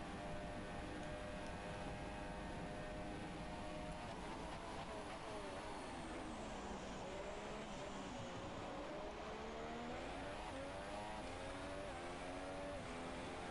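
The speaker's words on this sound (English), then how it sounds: "I think this is Car World beginning his first proper flying run" A race car engine in a sim racing league round at Italy holds a loud, steady high-pitched drone on a flying qualifying lap, its pitch dipping and climbing through corners.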